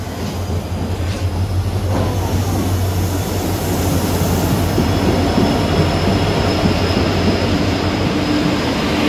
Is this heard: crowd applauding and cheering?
no